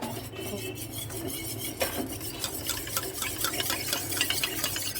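A spoon stirring milk powder into liquid, a continuous soft swirling and light clinking against the container, close and fairly quiet, with no talking.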